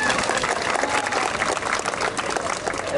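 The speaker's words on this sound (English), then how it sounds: "They're very polite clapping at the moment." Street-show audience at the Edinburgh Fringe clapping politely, an even spread of many hands applauding steadily for a few seconds, fairly close and without voices.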